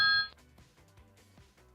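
A trading alert chimes briefly in the background, a short bright electronic tone at the start followed by a quiet lull and a faint second ping at the end.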